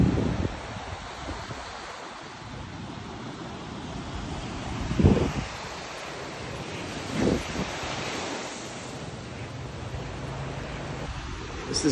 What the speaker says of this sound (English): This black sand beach is pretty dope